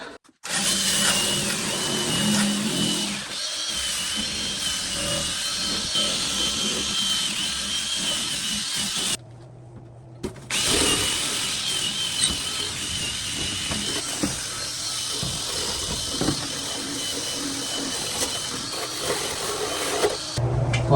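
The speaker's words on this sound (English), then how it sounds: "I think I'll hit that with the wire brush while I'm at it." Power wire brush scouring rusty metal on the cowl panel of a 1964 Chevrolet C10 truck, a loud, harsh, whirring scrape running nearly continuously, with one brief pause midway before resuming.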